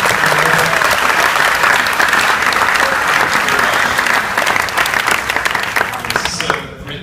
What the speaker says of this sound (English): So make a big applause for